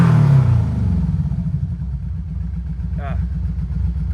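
A 1986 Suzuki Cavalcade GV1400 motorcycle engine runs at a steady idle close by, with a deep, even, throbbing rumble that holds through the whole stretch.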